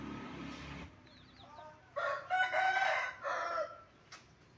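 On a farm, chickens cluck and a rooster crows loudly nearby. A brief low voice comes first, then a long crow in two bursts, and a short cluck closes it.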